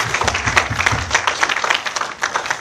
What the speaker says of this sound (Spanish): Dele fuerte aplauso.